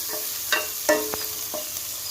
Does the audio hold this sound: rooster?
no